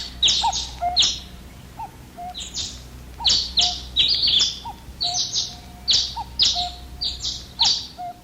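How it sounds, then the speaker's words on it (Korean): Birds chirp and tweet in short repeated bursts, bright and fairly close, with steady quiet background between calls. "새들이 예쁜 목소리를 내면서 지저귀고 있어요."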